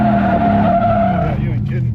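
A Mitsubishi Starion with a swapped 1UZ-FE V8 slides, its tires squealing loudly over a droning engine held at steady revs, with a voice talking over it.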